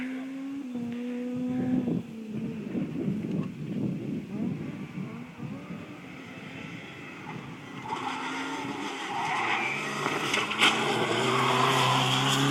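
A rally car on a stage race course near Rzeszów drives past, its engine note rising and falling over several seconds and carrying from a distance amid outdoor crowd noise and wind, with spectators talking nearby.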